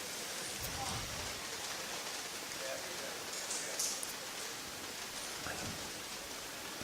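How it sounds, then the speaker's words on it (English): Steady rain drums on covers overhead at an outdoor event, a dense, even hiss with occasional louder drips and faint voices in the background. "we can hear the rain fairly well now. Yeah, quite steady, just hitting off the covers above us"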